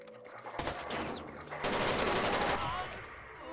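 Gunfire in Rainbow Six Vegas, a burst of rapid shots and sustained automatic fire at moderate loudness, with sharp clustered reports and crackling echo over a few seconds.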